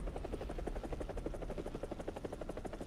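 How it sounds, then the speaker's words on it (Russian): Eurocopter helicopter flying in the combat video game War Thunder, a steady close rotor drone with rapid rhythmic blade chop and engine whine throughout, loud and continuous with no talk. "давайте покажу еврокоптера"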